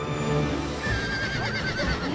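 A horse galloping on a dirt track in Costa Rica, close and loud, its whinnies and snorts mixed with drumming hoofbeats throughout, no talking.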